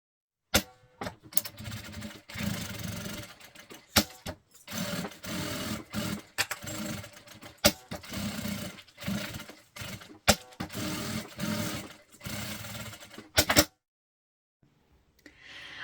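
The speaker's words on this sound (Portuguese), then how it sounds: "passar uma costura de segurança em toda a volta" A sewing machine runs a safety seam around a double men's toiletry bag, with repeated short bursts of rapid mechanical stitching and brief pauses between, close and fairly loud, ending in near silence.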